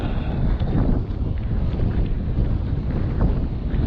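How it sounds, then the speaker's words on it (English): Strong wind buffeting the microphone outdoors on the North Downs Way between Etchinghill and Dover, a loud low rumbling roar that gusts unevenly throughout. "It's not getting any less windy, is it?"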